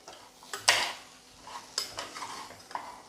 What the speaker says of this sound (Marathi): ही अशी धुवून स्वच्छ मी कोथिंबीर घेतलेली आहे, ती पण भाताबरोबर अशी परतवून घेऊया.